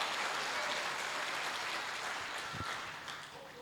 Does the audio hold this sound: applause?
yes